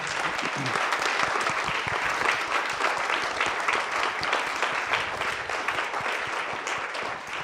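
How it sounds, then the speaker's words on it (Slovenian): A cinema audience at a birthday screening gives loud, dense applause, many hands clapping continuously and evenly throughout without pause. "Vsem tem bi seveda namenili gromek aplavz in jih danes povabili pred platno."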